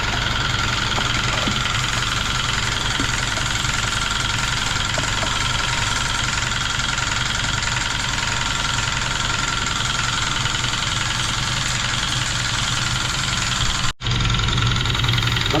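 A power sprayer engine used to blast mud off surfaces runs continuously with a steady, loud, rattling drone, then cuts out abruptly near the end.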